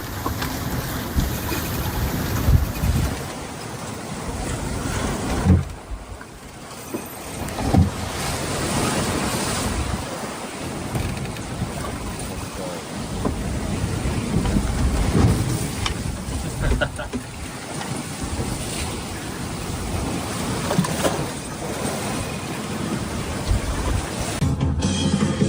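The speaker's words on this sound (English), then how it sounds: "the sound of waves hitting the side of the boat" Waves slapping against a boat hull with rushing water and gusty wind noise, loud and continuous for a long stretch.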